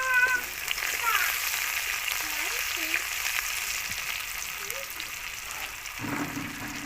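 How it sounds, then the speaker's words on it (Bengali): Panch phoron whole spices and chopped onion frying in hot oil for a Bengali potato-greens and small catla fish curry, a steady bright sizzle throughout with brief faint voices in the background and a heavier crackle as more goes in near the end. "তেলের মধ্যে আমি 5 ফোড়ন দিয়ে দিলাম।"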